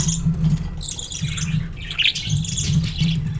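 A pet cockatiel-sized bird perched in a large cage lets out repeated close, loud squawks and chirps, mostly alone with a low steady background rumble.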